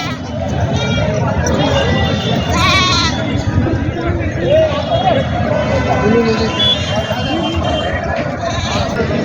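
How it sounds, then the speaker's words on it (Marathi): Goats and young kids bleat repeatedly at a busy rural village goat market in Parbhani district, Maharashtra, loud and close under constant crowd chatter and someone talking. "खूप चांगल्या शेळ्या आहेत पिल्ले पिल्ले पण आहेत"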